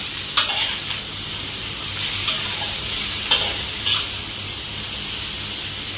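Luffa gourd and shrimp stir-fried in a hot pan, a steady bright sizzle with a few louder hissing bursts and scraping stirs, close up and without talk.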